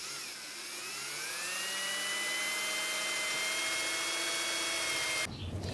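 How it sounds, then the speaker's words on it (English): A power drill whines steadily, its pitch rising then holding as it bores through metal, close and loud, before cutting off abruptly near the end. "But I'm going to start by drilling that out."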